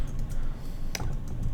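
Rapid keystrokes on a computer keyboard tap out a short burst of typing, close and moderately loud, with one sharper click standing out near the middle over a low steady room hum.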